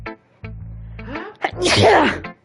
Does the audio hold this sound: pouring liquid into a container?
no